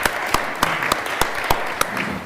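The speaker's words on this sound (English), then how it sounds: "another round of applause for our students." Sparse, rhythmic applause for students at a board meeting, a few people clapping in a steady beat of distinct, fairly loud claps over a soft room hum.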